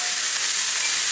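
Sliced capsicum and carrot with cauliflower stir-fry in a hot pan, giving a loud, continuous close-up sizzle and hiss with no pause.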